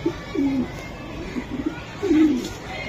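Young racing pigeons, handled while being shown for sale, give low cooing calls, two clear rolling coos near the start and end, close by with faint background noise.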